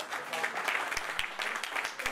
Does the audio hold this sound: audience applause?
yes